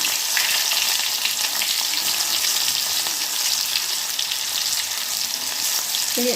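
Stuffed bitter gourd fries in hot oil in an iron pan, a steady, loud, close crackling sizzle that holds evenly throughout, with a brief clink near the end and no voices.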